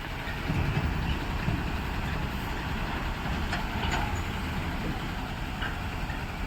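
Loaded trucks rolling into a river to be filled with sand, a steady broadband engine rumble with low-end roar and faint splashing, continuous and fairly loud, no talk.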